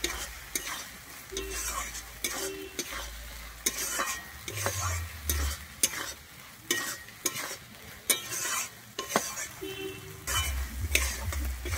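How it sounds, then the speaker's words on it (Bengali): Peas being stirred with curd and spices in a pan for masala cauliflower and peas, a steady sizzle broken by repeated scraping stir strokes and spoon knocks, close and continuous with no talking. "আমি এবারে খুব ভালোভাবে দইয়ের সঙ্গে মিশিয়ে নেব"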